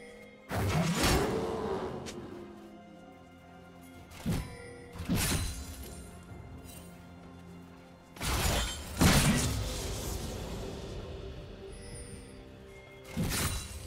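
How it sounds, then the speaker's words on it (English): A turret is destroyed in a League of Legends top-lane match, heard as a series of sharp thunks and shattering crashes with swooshing effects, several loud impacts spaced irregularly over the game's soundscape. "Red Team's turret has been destroyed"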